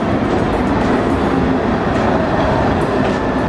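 A first-class sleeper train travelling from Bulgaria to Turkey rumbles along loudly and continuously, with a dense clatter of wheels on the rails heard from inside the carriage.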